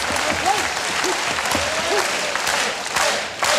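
Large crowd clapping along in a steady rhythm at a professional wrestling match in Sapporo, loud and dense throughout, with a commentator talking over it.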